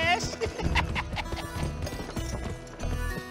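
Hooves of a horse galloping at speed in the video game Gun, a rapid clip-clop rhythm under someone talking, with music playing behind.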